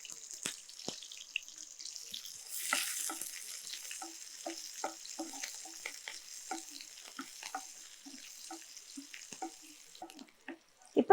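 Onions sauté in oil for a chicken pepper roast: a quiet, low hiss with a rhythmic series of light spatula scrapes and taps, close by and without speech.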